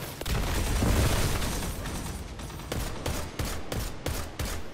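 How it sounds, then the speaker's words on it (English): A flaming grenade explodes in a shooter game with a heavy boom, then a rapid string of sharp gunfire bursts follows in a loud, busy battle mix with no talking. "Eat my flaming grenade!"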